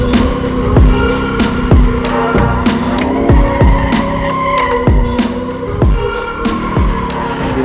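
An 850 hp Nissan Silvia PS13 drifting, its engine roaring loud and close with repeated revving surges and shifts, tires squealing throughout.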